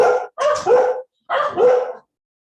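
A dog barks three times close by, in two quick yips followed by a longer bark after a short pause, loud and alone with no talk.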